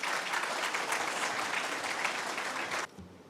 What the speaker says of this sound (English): May we have a round of applause for her?